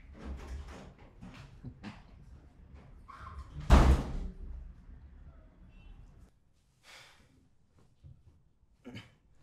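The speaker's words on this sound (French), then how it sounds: "Ferme bien la porte en sortant." A door is slammed shut in a home, one loud, close bang in the middle of the clip, with quieter movement and scuffing sounds before and after.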